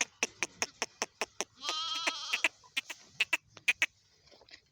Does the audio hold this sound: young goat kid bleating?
yes